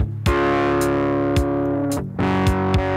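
Heavily distorted electric guitar chords ring out loud and sustained, with a few sharp re-struck chords near the end.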